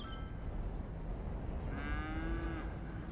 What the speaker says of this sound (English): The Highland cows appear.